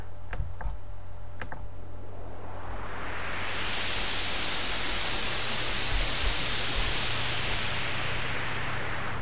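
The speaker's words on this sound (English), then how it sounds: "I also have this wind sound that sounds like this" A whooshing wind effect swells up from a few faint ticks into a broad, rushing hiss that builds and holds steadily, with no voices.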